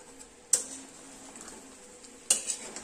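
A spoon scrapes a kadhai of bhuna chicken with two sharp metallic clinks over a quiet, faint background sizzle.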